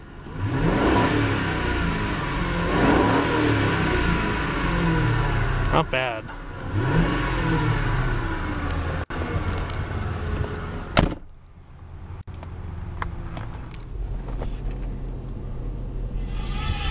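A 2003 Lincoln Town Car Cartier limousine with a 4.6-litre modular V8 revs repeatedly, rising and falling close by, with a door-like thump and a brief spoken remark partway through.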